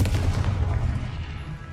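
A fiery explosive spell blast in the wizarding game Hogwarts Legacy, a loud sustained booming rumble with heavy low end that slowly fades.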